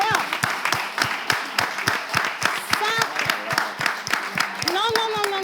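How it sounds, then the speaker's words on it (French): An audience in a French variety show setting claps steadily, dense and fairly close, with a host's voice talking over the applause and a brief tonal swoop near the end. "On applaudit"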